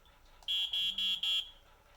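An old smoke alarm sounding with its test button held down: four short, loud, shrill electronic beeps in quick, even succession, close to the listener, with no talk.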